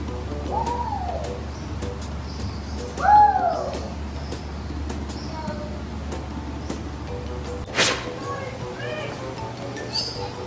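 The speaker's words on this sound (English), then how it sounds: "let's look at this bird" Bird calls at a zoo, several rising and falling whistled notes scattered over steady background hum, with a loud squawk near the middle and another call toward the end, amid zoo ambience.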